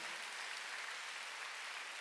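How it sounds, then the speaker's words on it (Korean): Church congregation applauding in a steady, dense wash of clapping that holds evenly throughout, with no voices breaking through. "박수로 하나 더 있어요"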